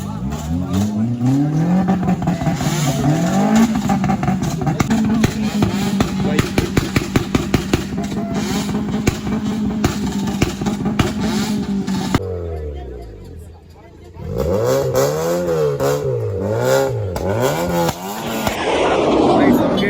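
Motorbike engines rev loudly nearby at a college Onam celebration, their pitch climbing and falling in repeated surges, with people talking and cheering in the background.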